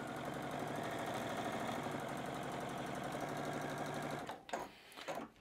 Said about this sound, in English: as I come over to the machine, lowering the presser foot again and again, I'm gonna sew right through the drawn line.